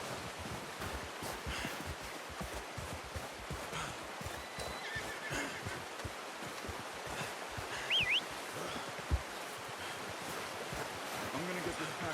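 A horse whinnies in the video game Red Dead Redemption 2 amid dense clip-clopping hooves and a steady windy, surf-like wash, with brief louder knocks near the end.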